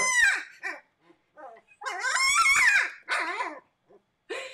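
Alaskan Klee Kai puppies bark and whimper up close, with several loud, high, wavering yelps and whines coming in bursts separated by short quiet gaps.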